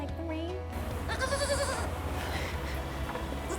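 A goat bleats once in a wavering, quavering cry over steady background rumble and rain, with faint voices nearby at a festival in Fort Wayne, Indiana.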